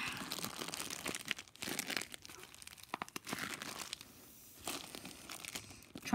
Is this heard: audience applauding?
no